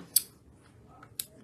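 Scissors snip twice through a paper pattern for stained glass, two short crisp cuts about a second apart in a quiet room.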